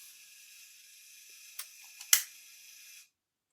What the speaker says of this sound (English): See the shutter button go down.